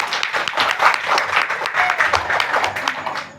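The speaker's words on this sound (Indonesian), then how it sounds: "Tepuk tangan dulu." An audience at a New Year's Eve religious lecture claps together in a sustained, dense round of applause that lasts several seconds before tapering off near the end.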